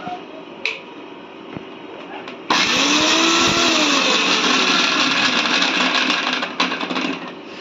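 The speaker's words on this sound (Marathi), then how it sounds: "चला मग आता आपण हे अद्रक, लसूण आणि मिरची आपण वाटून घेऊया" A kitchen mixer grinder loudly blitzes ginger, garlic and green chilli into a coarse paste, its motor starting abruptly after a few quiet seconds and running as a steady, dense whir, then easing slightly near the end.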